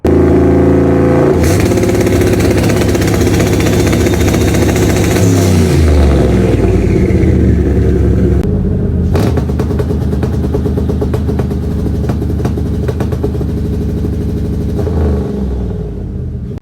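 Car engine revving hard through two different aftermarket exhaust setups, one a bumper exit, with loud, continuous throaty revs and rapid bursts up close and no talking.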